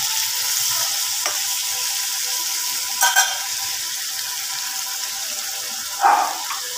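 Water left from rinsing the spice bowl hits a Bengali fish curry frying in a pan, giving a soft, steady sizzle with a few brief splashy bursts as it is poured and stirred, with no talking.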